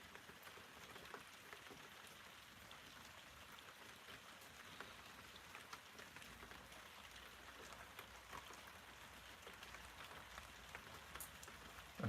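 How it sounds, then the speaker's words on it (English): Steady rain falling on a rooftop overhead, a soft continuous patter and hiss, faint and even, with no voices. "I hear rain. Yeah, that'll be above on the rooftop."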